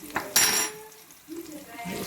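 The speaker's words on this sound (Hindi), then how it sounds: "राई दाना डाल देंगे" A teaspoon of mustard seeds is tipped into a hot pan of frying potatoes and okra, giving one brief, close burst of rattling and sizzling before the pan quiets.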